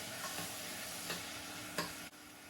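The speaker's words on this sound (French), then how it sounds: "un filet d'huile d'olive, et là je vais verser les oignons, les tomates et l'ail" Onions, tomatoes and garlic sizzle in olive oil in a pan, making a steady broadband hiss with a few faint clicks and taps from a utensil, and no voices.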